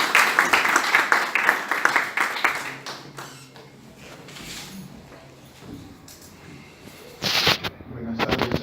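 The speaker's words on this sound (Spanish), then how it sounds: "Aplausos, aplausos." An audience in Arequipa claps to welcome a history lecture speaker, with a burst of applause at the start that fades out, followed by quieter room noise, shuffling and a few scattered claps.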